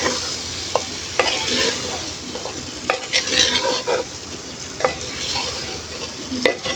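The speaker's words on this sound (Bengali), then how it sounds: "কাঠের চামচ দিয়ে নেড়ে চেড়ে দিব। মশলার সাথে ভালো করে মিক্স করে নিব।" Taro-root curry with spices is stirred in a village-style clay pot with a wooden spoon, giving repeated close scrapes and knocks over a constant frying hiss, with no voices.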